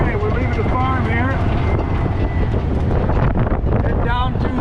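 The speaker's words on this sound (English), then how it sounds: "A little bit windy up here, 20-30 mile an hour winds." Strong wind of 20 to 30 miles per hour blows across open farmland, buffeting the microphone with a constant loud roar, while people talk over it.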